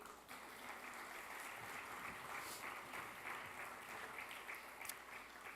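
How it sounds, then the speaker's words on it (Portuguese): Congregation applause during a Papiamentu church service, steady and dense clapping that fills the space at moderate level throughout, with no voices over it. "Forte aplauso no Senhor."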